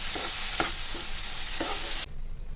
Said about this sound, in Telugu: ఈ పచ్చడి అంతా ఈ తాలింపులు వేసేసి బాగా కలిపేసుకోవాలి.